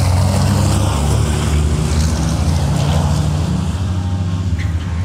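A 1200 hp Apollo Tyres race truck roars past on a racing circuit, its engine making a loud, steady, broad roar that fills the whole clip with no pauses.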